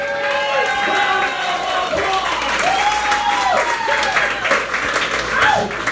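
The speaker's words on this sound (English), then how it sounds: "Round of applause for Kathy!" A crowd at a Republican voter registration drive claps and cheers throughout, with whoops and voices layered over the steady applause.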